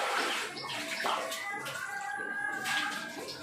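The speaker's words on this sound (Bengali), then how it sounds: "এখন কুয়ার থেকে জল উঠাইব" Water being drawn up from a village well, splashing and sloshing continuously at close range, with faint voices in the background.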